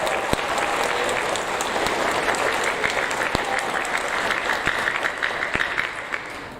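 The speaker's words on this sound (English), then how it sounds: "let's give her a round of applause as well." A school audience at a sixth-grade awards ceremony applauds steadily, a dense wash of clapping that holds for several seconds before thinning out and fading at the end.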